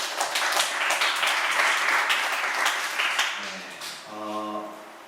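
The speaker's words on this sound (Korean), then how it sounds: "참석한 우리 모두에게 격려의 박수 하도록" A church youth congregation at a Sunday worship service applauds steadily for several seconds, dense and fairly distant, then fades as a voice and a sustained tone come in.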